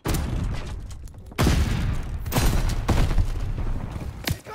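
Stun grenade blasts and rapid gunfire in Call of Duty: Vanguard, Champion Hill trios mode: loud, dense bursts of shots with sharp booms near the middle and end, continuous close combat noise with no talk.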